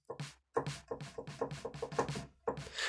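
Function Loops snare sample number 10 played dry, with no effects: sharp, bright snare hits repeat in quick, even runs, split by a brief gap and restarting near the end, close and unaccompanied.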